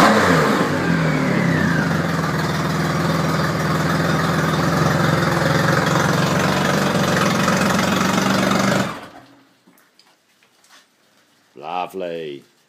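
A Triumph Rocket 3 Classic motorcycle engine growls loudly up close for about nine seconds with a quick rev, then cuts off, after which someone speaks briefly.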